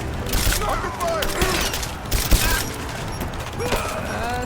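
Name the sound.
gunfire in the video game Rise of the Tomb Raider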